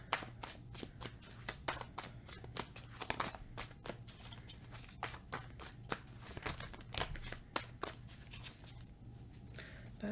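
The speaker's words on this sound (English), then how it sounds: "That is a lot of cards that just fell out here" Tarot cards are shuffled continuously in the hands, a steady run of crisp riffling flicks and soft slaps, close and fairly quiet, with some cards spilling out of the deck.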